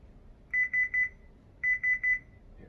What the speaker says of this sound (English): when it gets to the end, it will make a beep to let you know it's done